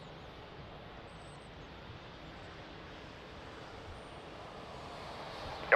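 A passenger airliner takes off from Lisbon Airport's runway 20 in rain and wind, its engines a steady broadband roar that holds at an even level throughout, with a brief sharp knock near the end.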